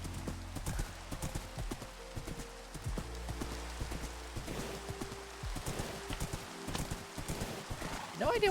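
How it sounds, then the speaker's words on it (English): Horse hooves clip-clop steadily across ground in Minecraft, a quick repeating rhythm of soft knocks with an occasional whinny, moderately loud over faint ambient game noise. "Good horse."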